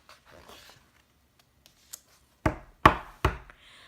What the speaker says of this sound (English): Knock, knock at the door.